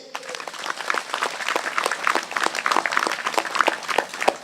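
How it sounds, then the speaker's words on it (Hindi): A congregation at a Hindi-language Christian healing prayer worship service claps and applauds, a dense burst of many hands close by, steady for several seconds. "तालियां बजाइए।"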